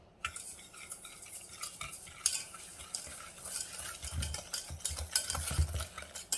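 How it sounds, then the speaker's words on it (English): A whisk scrapes and clinks briskly inside a bowl of lemon curd, irregular metallic strokes close up and fairly quiet, with no talking. "Now whisk."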